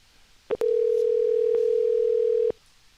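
A phone call's ringback tone sounds as someone is called: a short click, then one steady, loud electronic tone held for about two seconds before it cuts off, with no voices.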